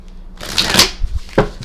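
A deck of tarot cards is shuffled close by in one brief riffling, papery burst with a couple of soft taps at the end, no voices.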